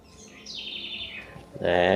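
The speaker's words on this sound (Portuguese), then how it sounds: "Bonito, né, o canto desse passarinho que tem aqui na nossa escola?" A small wild bird sings at a school: a few thin, faint whistled notes sliding downward, then a louder, fuller burst of sound at the very end.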